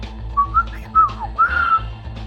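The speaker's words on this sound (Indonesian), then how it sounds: "Dari mulut pendekar 212 mulai terdengar siulan membawakan lagu tak menentu." Someone whistles a short, wandering tune in a few brief phrases over a low background hum.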